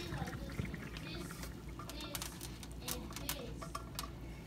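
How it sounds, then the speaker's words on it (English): Cooked macaroni noodles pour from a pot into a strainer in a home kitchen, giving a steady, close rush of water and splashing that holds for several seconds with no break. "we're gonna pour them over in the strainer"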